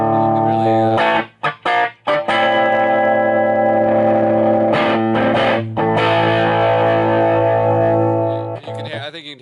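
Electric guitar through a modified Vox treble booster pedal, bright overdriven chords ringing out with short stabs and gaps, loud and sustained, some reverb tail at the end.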